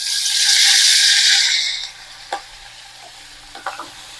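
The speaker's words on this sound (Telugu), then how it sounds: "పోపు వేగిన తర్వాత ఇందులో కరివేపాకు" Curry leaves hitting hot oil in a tempering of fenugreek seeds for a tomato dish give a loud, bright sizzle that fades after a second or two, followed by a few light utensil clinks.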